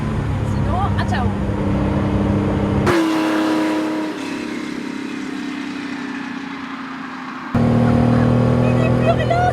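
A 2021 Porsche 911 S engine drones steadily while driving, a loud low hum with changing pitch as the car shifts and accelerates, heard from inside the cabin with people talking over it.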